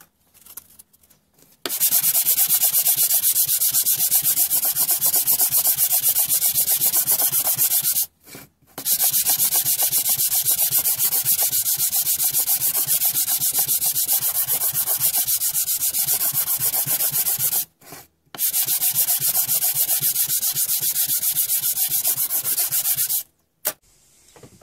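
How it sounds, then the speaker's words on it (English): Wood for a pet grave marker is sanded by hand with 120 grit sandpaper. Loud, close, steady rasping comes in three long stretches, separated by brief pauses. "Now I'm going to hand sand with 120 grit sandpaper."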